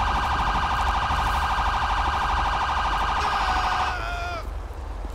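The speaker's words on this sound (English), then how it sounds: "I'll cut this siren off." A loud wailing police siren from the video game GTA 5 (LSPDFR mod, 2015 Chevy Tahoe sheriff vehicle) cycles steadily, then cuts off abruptly near the end, leaving quieter background noise.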